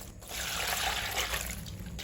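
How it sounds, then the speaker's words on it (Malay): Water pours from a container over red spinach in a bowl to soak it, a steady close trickle and splash lasting about two seconds. "Seterusnya kita rendam dengan air"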